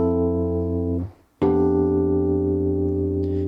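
Sustained piano chords from a progression, held alone and loud, with a brief gap before a new chord shifts in over the bass, no talking.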